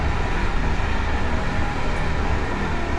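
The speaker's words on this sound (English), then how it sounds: "And there's a train going by." A train rolls past outdoors as a steady, loud low rumble with broadband rushing noise, continuous and unchanging throughout, with no voices over it.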